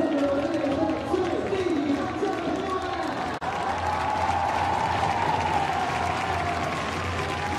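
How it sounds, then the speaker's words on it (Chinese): Baseball fans cheering and applauding from the stands at a Fubon Guardians game, a dense, steady crowd roar with clapping and shouting that runs throughout, briefly cut off once near the middle. "掌声送给我们的最顶尖将帅！"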